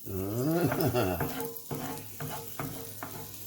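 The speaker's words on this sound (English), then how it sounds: "And listen to that sizzle." Food for a Reuben sandwich sizzles and crackles steadily on a hot grill in a video game, a continuous hissing texture, with brief stirring or scraping sounds and a tonal hum underneath.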